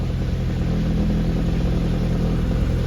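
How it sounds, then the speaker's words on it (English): A cold Audi S3 engine holds a high idle, a steady low droning hum with a constant even tone and no revving, heard close and alone. "It currently has a high idle because it's cold"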